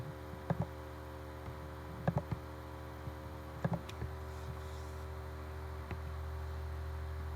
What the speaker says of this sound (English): The fan's kicked on my computer here, so I'm sorry about the extra noise.